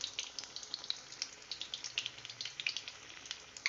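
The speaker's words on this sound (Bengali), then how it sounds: "আমি কিন্তু একদম সিমে রেখে ভাজছি একটুও তাপ বাড়াইনি" Eggplant fritters bubble and crackle quietly in a deep pan of oil on low heat, a faint, steady patter of tiny pops with no talking.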